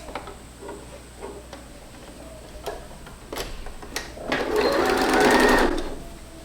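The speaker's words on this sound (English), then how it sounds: "So with my fabric right side to right side, I'm going to stitch it in with a 1 centimeter seam allowance." A domestic sewing machine stitching fabric sleeve pieces into the armholes of a baby romper, starting with a few slow clicks and soft mechanical ticks, then running in a steady close whir for about two seconds.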